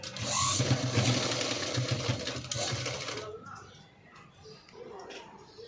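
Sewing machine stitching one side of a zip onto a blouse, a steady loud mechanical whir for about three seconds before it stops, leaving quieter handling noise and a voice.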